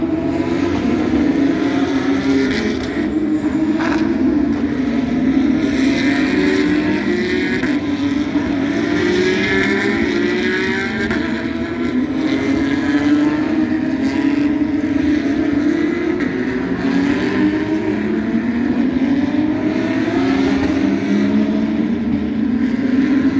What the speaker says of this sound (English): Yeah, there it is. Alex Davidson's car.